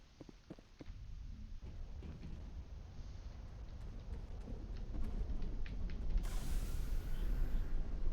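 Steady rain and low rumbling thunder from a thunderstorm in the Mass Effect 1 video game, on the planet Virmire, a continuous wash that swells louder toward the end, with a few faint clicks early on.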